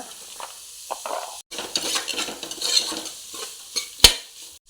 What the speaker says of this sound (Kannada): ಎಲ್ಲವೂ ಸ್ವಲ್ಪ ಫ್ರೈ ಆಗಲಿ